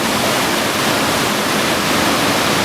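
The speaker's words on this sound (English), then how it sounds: "And here's the river going by it." A river rushes past in a steady, loud, broadband roar of flowing water, close and constant with no other sounds.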